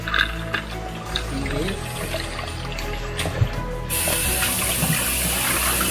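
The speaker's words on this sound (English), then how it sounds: "you make sure you wash this meat" Meat for Filipino-style pancit canton is rinsed under a running kitchen tap, producing steady splashing water that grows louder and brighter midway, with a voice faintly present.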